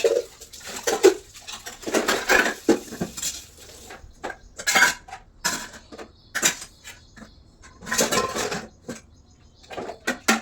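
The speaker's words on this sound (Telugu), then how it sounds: "టబ్బులో అయితే గిన్నెలన్నీ వేసేసుకొని బయట పెట్టేస్తే" Dishes, pots and cutlery clatter and clink in repeated sharp bursts as they are piled into a tub at home in the morning, loud and close, with short pauses between clusters of knocks.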